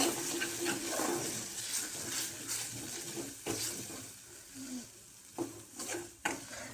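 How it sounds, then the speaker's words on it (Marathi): Water from rinsing a mixer jar is tipped into a hot pan of fried fasting-curry ingredients and stirred, giving a soft sizzle with scraping stir strokes and a few splashes at close range. "थोडंसं पाणी टाकते."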